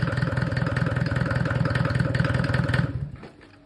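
A Mercedes OM604 2.2-litre diesel engine with a mechanical injection pump chugs with a fast, steady knocking rhythm, close and loud, then cuts off and winds down near the end.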